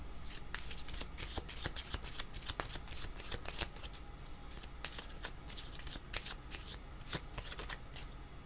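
Tarot cards are shuffled by hand close by in a continuous soft riffling and shuffling, with no voices.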